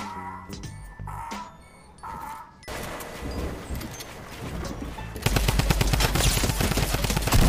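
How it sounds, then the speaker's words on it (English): A drum gun in Fortnite lets loose a loud, rapid stream of automatic fire that grows denser and sustained toward the end, after a few scattered earlier shots. "Double drum gun, brother!"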